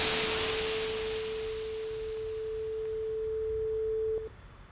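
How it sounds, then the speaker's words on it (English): Bright white noise fades away while a pure steady sine tone emerges and holds alone, then cuts off abruptly near the end, leaving faint quiet hiss. "play this track 1, which starts out as white noise and then fades into a sine wave"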